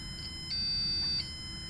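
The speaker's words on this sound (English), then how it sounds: "as I rotate the joystick, the tone of the buzzer changes" An Arduino buzzer driven by a joystick gives off a thin, high electronic tone that shifts in pitch as the joystick turns, faint and steady over a low background hum, with no one speaking.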